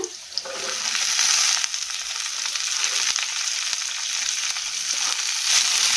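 Broad beans and onions fry with a loud, steady sizzle in a pan while a spatula stirs and scrapes through them with occasional sharp clicks.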